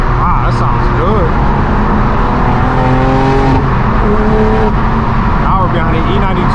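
Loud rasping exhaust from a straight-piped BMW M4 G82 cruising at night toward a large BMW car meet in LA, the engine droning steadily with rising and falling revs and other cars nearby.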